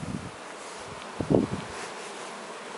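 A honeybee swarm moving from a branch onto hive frames holding brood and honey buzzes faintly and steadily outdoors, with a soft rustle and occasional louder passes near the microphone.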